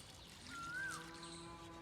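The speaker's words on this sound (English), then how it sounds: "Just gonna water it all." Water being poured over a compost pile, a soft continuous trickle, faint and close, with a brief tonal squeak partway through.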